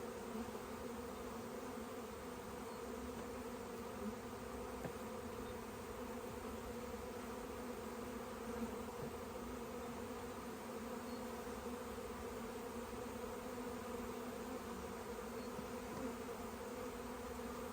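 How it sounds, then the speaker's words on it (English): Honey bees fan and buzz at the hive entrance in a steady, dense drone that holds level throughout, close by and alone with no voices. "I'd like to see more of the queen fanning here, but seeing a lot of activity there, that's good."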